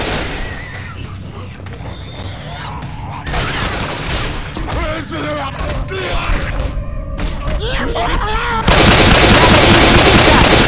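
Gunfire in Left 4 Dead 2 at a dead center mall: sustained bursts of shooting with thuds and booms, building to a loud, dense volley near the end, mixed with game voices and calls.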